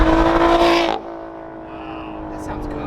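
Lotus sports car engine revving loudly up close for under a second, then dropping off sharply to a lower, steady idle rumble with faint chatter in the background.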